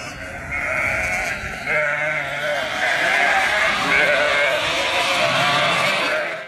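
Sheep and lambs on a farm bleat continuously as they reunite, many overlapping calls near and far forming a loud, steady chorus with no pauses.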